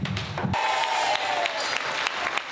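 An audience applauding after an Argentine dance performance on a stage: steady, dense clapping from many hands, fairly close and continuous after a brief low thump at the start.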